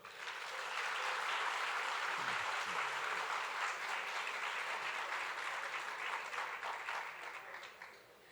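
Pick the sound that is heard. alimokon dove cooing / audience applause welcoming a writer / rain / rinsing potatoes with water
audience applause welcoming a writer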